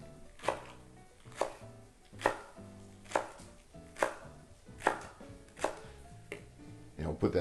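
Green onions chopped with a knife on a cutting board for a shrimp gumbo, steady evenly spaced thuds about once per second, close and clear, ending with a quicker flurry of cuts.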